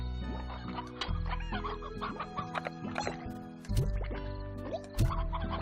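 Chickens cluck in the video game Slime Rancher, several short bursts of clucking spread across the clip over steady tonal game music.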